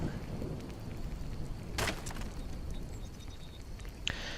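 Thunderstorm in the game Skyrim: steady rain hiss throughout with a sharp, bright thunder crack about midway and a smaller crack near the end, moderately loud with no talk.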